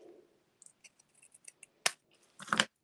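Scissors cut through card stock while shaping a bay window card, a string of small, quick snips followed by two louder, sharper cuts close by.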